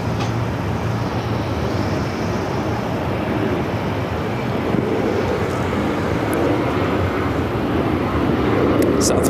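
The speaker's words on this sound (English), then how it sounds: "Southwest coming in from Colorado Springs, 737-800, flight 1111, now heading to Terminal 4" A Southwest Boeing 737-800 arriving at Phoenix airport gives a steady, loud engine roar that fills the whole span, with faint voices underneath.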